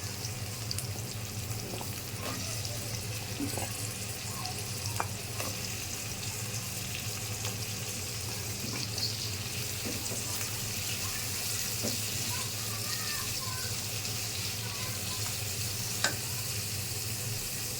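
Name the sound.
potatoes frying in pan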